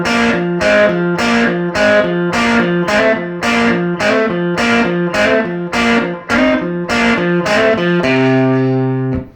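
Electric lead guitar playing the syncopated final verse of a 1956 song, loud with a driven, effected tone: choppy repeated stabs in a steady broken rhythm, ending on a held ringing chord.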